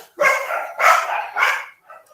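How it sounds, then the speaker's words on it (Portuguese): Dogs bark nearby during a meeting session, three loud, closely spaced barks followed by a fainter yip, with no talking over them. "Estão mandando eu calar a boca, os cachorros."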